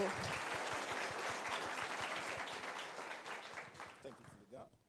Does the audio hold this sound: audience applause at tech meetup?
yes